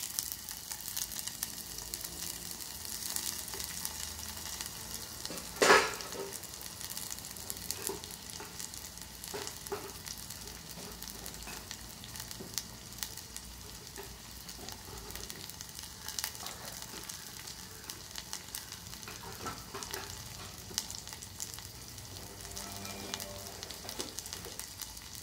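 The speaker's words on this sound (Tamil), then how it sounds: "இதில் வந்து நாம் வெங்காயத்தை ஆட் பண்ணிக்கலாம்" Onions and curry leaves fry in hot oil for a Tamil vazhaikkai puli kulambu, giving a steady, close sizzle that runs throughout with a brief louder crackle near the start.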